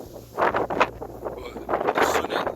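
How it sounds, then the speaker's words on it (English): Strong gusting wind batters the microphone outdoors on the old town walls of Berwick-upon-Tweed, Northumberland, a loud, rough rumble that swells and eases in repeated bursts. "The wind today is horrific"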